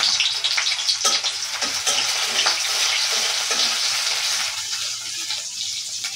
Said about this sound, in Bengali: কড়াইয়ের মধ্যে তেল দেওয়া হয়েছে, এখন পেঁয়াজ কুচি ছেড়ে দেওয়া হচ্ছে